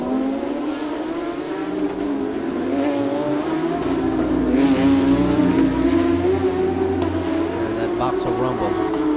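Porsche Carrera Cup Pro race cars rumble with their boxer engines, a loud, continuous growl that swells as they rev. A commentator speaks over the noise.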